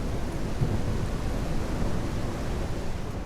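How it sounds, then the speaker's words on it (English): A thunderstorm in a farming video game rumbles as a steady, dense wash of low roaring noise, like heavy rain with distant thunder, with no speech over it. "Yep, big storm."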